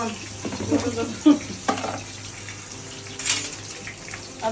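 Garlic and ginger frying in a pan, a steady moderate sizzle with occasional stirring scrapes and clinks close by.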